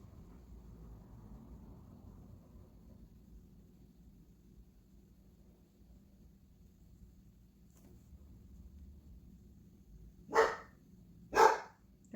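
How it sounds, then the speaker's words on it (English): A female dog barks twice from a distance, two short, clear woofs about a second apart near the end, after a long stretch of quiet room hum. "There goes my dog"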